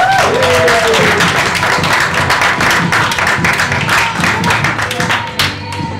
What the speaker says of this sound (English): big clap and round of applause